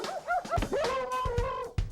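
A dog whines in rising, pitched whimpers broken by several short, sharp barks and yips, close and clear with no talk.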